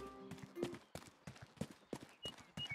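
Horse hooves clip-clop in the video game Rustler, a few soft irregular steps in the foreground mixed with game effects and a brief whinny-like tone.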